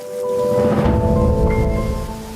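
Rain and thunder roll through a steady, dense wash with a low rumble building and holding throughout, loud and close, with faint tonal music lines layered over the storm.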